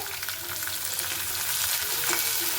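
Fenugreek leaves and onions frying in hot oil give a steady, close crackling sizzle that holds evenly throughout, with no one talking.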